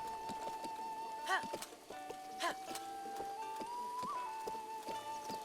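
In the video game Breath of the Wild, a horse's hooves clop in a quick, steady patter over a sustained musical tone, with a few sharper accents breaking through.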